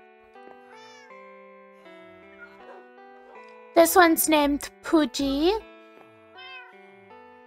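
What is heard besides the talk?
cats meowing in Minecraft video game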